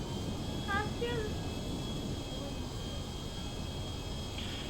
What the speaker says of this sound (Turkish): Evet arkadaşlar uçağı aldık.